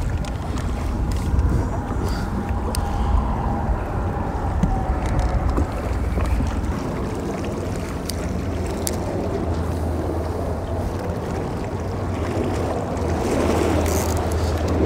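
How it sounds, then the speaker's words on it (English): Strong gusting wind buffets the area by a bridge over water, a steady loud roar of wind noise with low rumbling and no clear talk. "this might be a little too windy out here"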